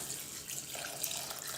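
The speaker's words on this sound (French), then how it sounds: "Et je mets 700 ml d'eau froide." Cold water poured into a pot of lentils makes a steady, close rushing splash, loud and unbroken for the brief moment, with no talk.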